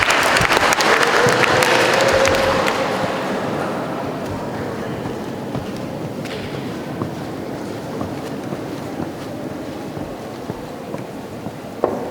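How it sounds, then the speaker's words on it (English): Loud applause from a school audience at an outdoor Independence Day assembly, welcoming the chief guest; dense clapping for about three seconds, then a softer sustained patter with wind noise to the end. "Please welcome our chief guest with a big round of applause."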